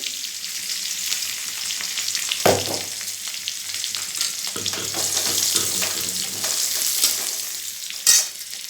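Garlic and onion tempering sizzles steadily in hot oil for a Bengali bitter gourd, brinjal and mustard dish, with a few louder crackles and stirring scrapes over the continuous hiss.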